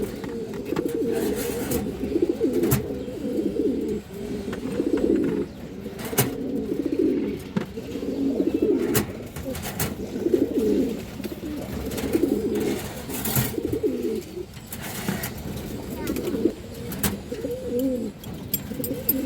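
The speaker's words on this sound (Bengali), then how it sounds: "একটা মুসলদম নরকবুতর একবার কুচকুচের কালো আছে দর্শক" A black Mushaldom cock pigeon coos close by in repeated rolling phrases, with occasional wing or cage noises between calls.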